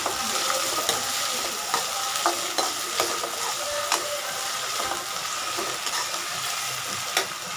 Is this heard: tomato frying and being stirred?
yes